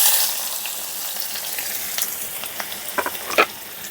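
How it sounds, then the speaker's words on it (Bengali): Chopped onion fries in hot oil left from frying paneer, with a dried red chilli added: a bright close sizzle with scattered crackles and a few scraping stirs near the end. "পেঁয়াজটাকে ভালো করে ভেজে নেব।"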